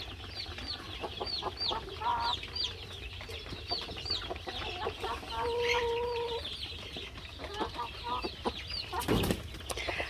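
Farm chickens cluck and chatter continuously nearby, with short repeated calls and a few drawn-out squawks over a quiet outdoor background.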